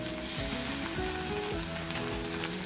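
Onion fries in oil with asafoetida and ginger garlic paste, giving a close, continuous sizzle with a few faint stirring scrapes and no talk.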